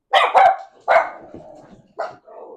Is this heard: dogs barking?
yes